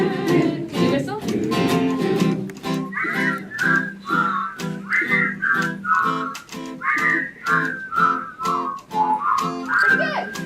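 A child whistles a wavering, breathy tune up close, with short rising and falling notes repeated in a loose rhythm and some babbly voice sounds early on.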